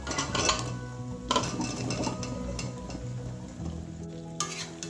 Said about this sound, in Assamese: এনেকৈ 2-3 মিনিট মই এনেকৈ তেলখিনিতে ভাজি লওঁ